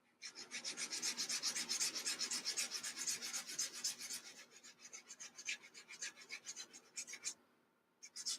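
Sandpaper rubs steadily over a plastic part of a 1/72 Monogram B-36 model kit, making a close, rhythmic back-and-forth scratch that keeps a fast, even pace and briefly pauses near the end.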